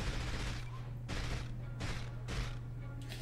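Gunfire in the video game 007: From Russia With Love: four evenly spaced bursts of shots with a mechanical edge, over a steady low hum from the game.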